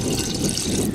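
Water poured into a vessel while making lassi, a steady close rushing, splashing stream lasting about a second without any talk.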